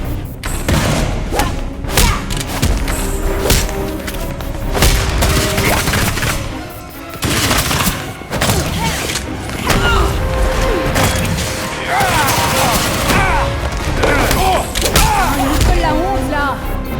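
Rapid gunfire and heavy thuds from the Gotham Knights video game, loud and dense throughout with overlapping bursts and booms over a steady game soundscape, no speech.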